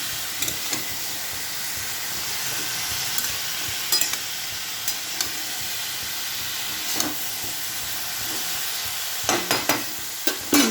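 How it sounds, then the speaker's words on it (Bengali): Beetroot and potato fry in a pan, a steady sizzle and hiss broken by scraping stirring strokes that come more often toward the end, with no talking. "এটাকে বিট আর আলুটাকে নাড়াচাড়া করবো।"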